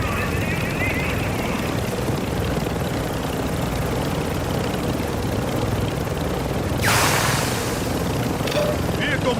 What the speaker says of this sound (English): The enemy attack helo is moving in your direction.